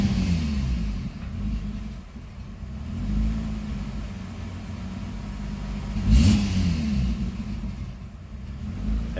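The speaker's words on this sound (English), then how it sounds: "If I try and rev it up here," A Pontiac Grand Prix engine idles with a low rumble and is revved moderately a few times, with a sharper rise near the middle, steady and close with no talking.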